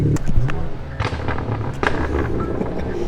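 Sharp pops and crackles burst from a straight-piped BMW 335i exhaust, loud and close, scattered irregularly over a rumbling engine with some wind noise.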